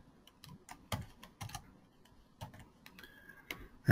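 Someone enters login credentials on a computer keyboard, a quiet, close series of irregular key taps and clicks with short pauses between bursts and no talking.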